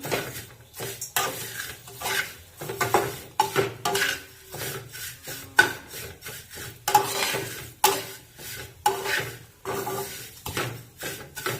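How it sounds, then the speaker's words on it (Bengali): Lachha frying in a pan is stirred in repeated scraping strokes, each brushing sweep rising and falling in a steady rhythm over a soft background sizzle, with occasional clinks of utensil against the pan. "তো এইভাবে তোমরা লাল লাল করে ভেজে নিবে লাচ্ছাটাকে।"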